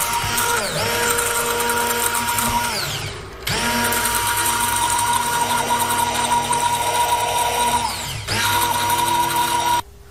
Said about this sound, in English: Next we'll use a blender to blend this